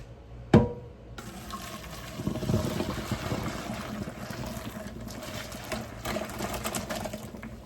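Water from boiled potatoes pours and splashes steadily into a sink as they are strained after a brief clunk, a continuous rushing wash of liquid lasting several seconds.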